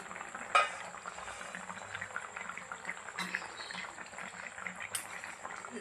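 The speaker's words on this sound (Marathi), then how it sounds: "याला आपण 15 ते 20 मिनिटं छान असं उकळू देऊया" A pot of chicken soup bubbles at a steady simmer with a soft, continuous gurgling hiss and one sharp clink near the start.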